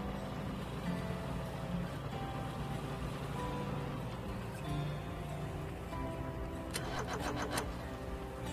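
A vehicle engine in the sandbox game Stormworks, revved to maximum RPM: a steady, close mechanical drone holds throughout, with a rattling, whirring flutter appearing near the end.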